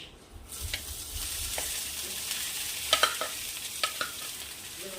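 Sesame and roasted chili chutney stir-fried in a little hot oil over low heat, giving a steady close sizzle with light spoon scrapes and a few sharp clinks against the pan.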